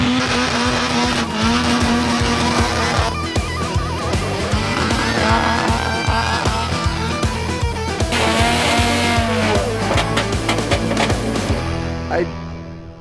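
A drift car skids around a track, its engine revving loud and steady with whining, shifting tones and tire squeal for about twelve seconds before cutting off abruptly.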